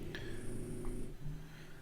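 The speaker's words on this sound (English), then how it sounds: "he's snoring his head off underneath my desk" A French bulldog snores under a desk, a low rough droning rumble that carries on steadily and quietly throughout, close by with no voices.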